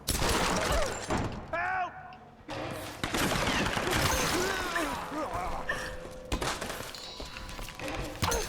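Gunfire rattles in Tomb Raider (2013) as irregular volleys of shots and thuds, loud and close, with voices shouting through the shooting.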